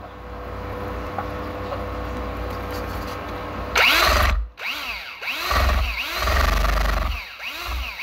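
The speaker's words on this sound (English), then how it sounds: "There's a reason why I got this drill for free, by the way." A power drill sits silent at first, then spins up loudly partway through and whines in repeated rising and falling revs. It was used on a job converting an AC network device to DC power.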